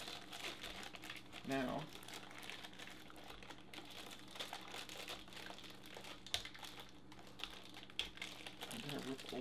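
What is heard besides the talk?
plastic packaging of a WD My Book Live hard drive crinkling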